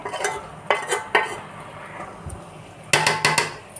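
Onions are stirred in a cooking pot with a metal spoon, giving sharp clanks and scrapes in short bursts: several near the start and a quick cluster near the end, over a faint sizzle.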